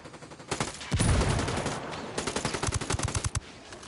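Rapid gunfire in Ghost Recon Wildlands: a heavy burst near the start followed by a long rattling string of sharp automatic shots at close range, with no clear grenade blast.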